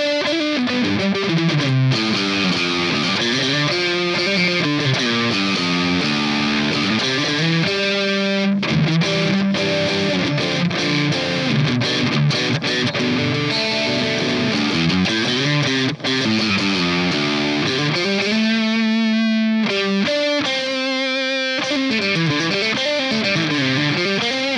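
Electric guitar runs through a DOD Supra distortion pedal with some gain dialed in, giving a crunchy, sustained tone as chords and bending lead lines play continuously.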